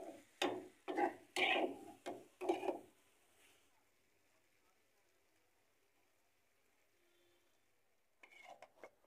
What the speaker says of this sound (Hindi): अंडे डालने के बाद 2 से 3 मिनट बस इसे जो है ना फ्राई करना है हमने